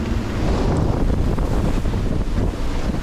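Strong 30-knot wind roars over a sailboat at sea heading into a storm, a loud, continuous, buffeting rush with wind hitting the microphone and waves underneath, no voices.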